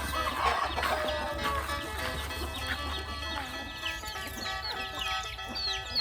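Chickens clucking and calling in a busy farmyard, several birds at once with scattered chirps over a steady low hum.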